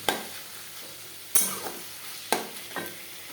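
Stir-frying chow mein in a pan: a steady sizzle broken by a few sharp scrapes and clatters of a utensil against the pan, with no one speaking.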